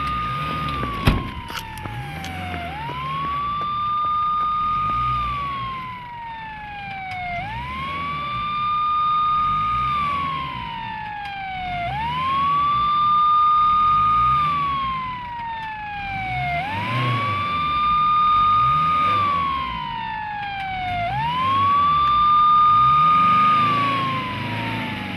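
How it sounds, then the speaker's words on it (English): A police car siren wails in a steady, repeating rising-and-falling cycle, loud and close, with the engine's rumble beneath it for the whole stretch and no talking. "A police siren scared them off"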